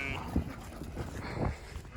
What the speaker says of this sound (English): These sheep over here, the mommy's about to have a baby.